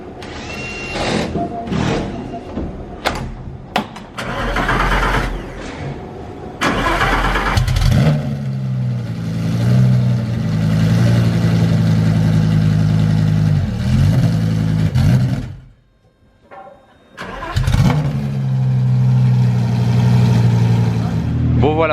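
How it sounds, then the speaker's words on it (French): A Lamborghini Huracan GT3 Evo race car engine cranks and fires up, then settles into a loud, deep rumbling idle with occasional revs, briefly dropping quiet before roaring again; voices are heard early on. "ils viennent de démarrer la Huracan GT3 Evo, comme vous avez entendu."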